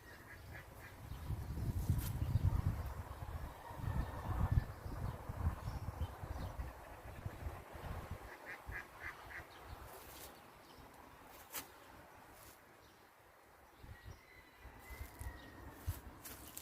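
Ducks quack in an outdoor bird garden, a loud cluster of calls at first, then sparser and fainter quacks scattered through the rest over low ambient noise.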